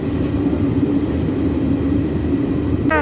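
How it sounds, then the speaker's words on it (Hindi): Garib Rath passenger train arriving at Bareilly Junction, a steady loud rumble of rolling wagons and rail noise with a brief screech near the end. "तो भैया हमारी ट्रेन आ चुकी है बरेली की बर्फ़ी में, और बरेली जंक्शन में, और अराइवल हो चुका है।"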